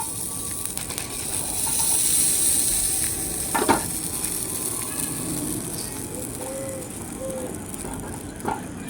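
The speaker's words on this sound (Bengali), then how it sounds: "একবারে সব তন্দুরিগুলোকে আমি ভেজে নিলাম। এটাই লাস্ট।" Tandoori naan bread cooks in a pan dhaba-style, giving a steady close sizzle with faint scraping and clinking of utensils throughout.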